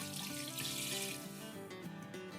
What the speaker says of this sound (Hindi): और अब इसमें मैं डाल दूंगी पानी